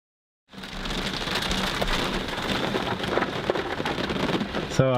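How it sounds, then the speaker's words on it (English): Steady rain falls outdoors, a dense continuous hiss of drops on surfaces that begins abruptly after a moment of silence and holds loud and close to the end, with no talk. "So, Floris, how long was it since we stopped filming that started raining?"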